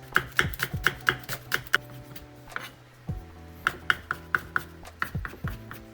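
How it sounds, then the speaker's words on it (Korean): A knife finely mincing green onion on a cutting board gives brisk, evenly spaced chops, close and clear, in two runs separated by a short pause, with a light clatter of the board. "여기다가 대파 다진 거 넣을 건데 대파는 좀 잘게 다질게요"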